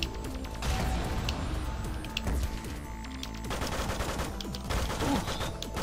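Rapid gunfire and crashing hits from the arena fighting game Megabyte Punch in tournament mode, a dense, loud barrage of shots running continuously throughout with no talk.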